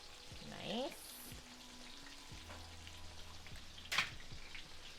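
Schnitzel fries in a fully loaded pan with a faint, steady crackle heard from a distance. A couple of brief louder knocks and clatters break through, one near the start and one later on.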